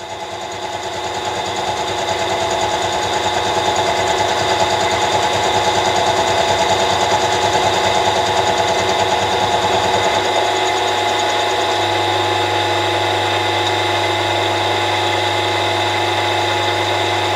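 A milling machine cuts dovetails with cutters, a loud steady mechanical chatter and whine with a rapid rhythmic rattle that shifts to a smoother hum partway through, continuing to the end.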